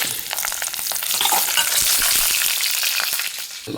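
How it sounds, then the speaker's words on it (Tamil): Country chicken and bottle gourd kuzhambu coming to a boil in a pot, with a dense, steady bubbling sizzle and scattered pops, loud and close. "இப்போ கொதி வந்துக்கிட்டு இருக்குது"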